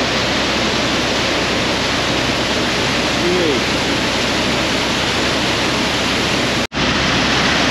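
Water pours in a loud, steady torrent into a canal lock beside a UK narrowboat, a dense unbroken roar that runs throughout and drops out for a split second near the end.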